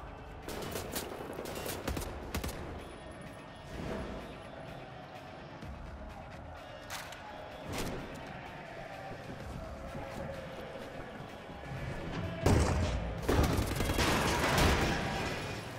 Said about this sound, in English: Who's firing at us?